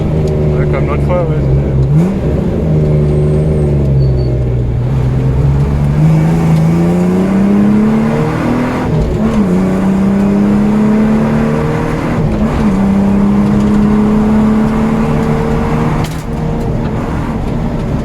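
Ford Sierra XR4i V6 rally car engine heard from inside while driving, revving up and down through repeated gear changes, rising then dropping pitch several times, loud and close with constant road roar.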